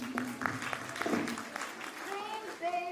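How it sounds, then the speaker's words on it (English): An audience at a storytelling competition grand finale claps and cheers, a burst of scattered hand claps with a voice speaking over the applause. "Let's cheer loudly to boost her confidence."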